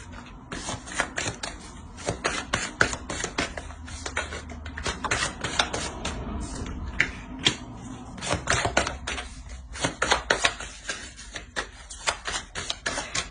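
Tarot cards are laid out one after another on a table, producing a rapid run of close, crisp slaps and flicks in an uneven rhythm, with a faint murmur underneath.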